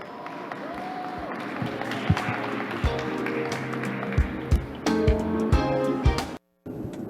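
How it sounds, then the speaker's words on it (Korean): Audience at a conference main session applauding to welcome a speaker, steady clapping filling the room with a few sharper claps standing out, cutting off abruptly near the end. "여러분 큰 박수로 환영해 주시기 바랍니다"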